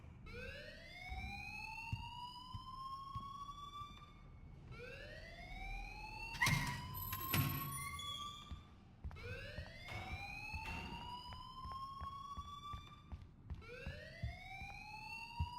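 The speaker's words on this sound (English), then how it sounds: "please turn off that alarm since that's your job" A repeating electronic alarm in the Life is Strange video game, rising whooping tones sounding in steady cycles of about four seconds, with a brief burst of louder clatter partway through, playing alone without talk.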